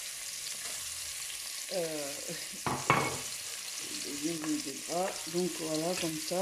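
Onions and garlic fry in hot oil for a white bean and guinea fowl dish, a steady sizzle with a few sharp crackles and utensil knocks, while someone talks over it in the second half.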